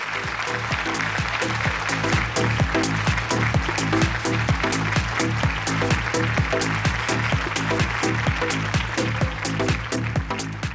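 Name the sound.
audience applause for Preetha Reddy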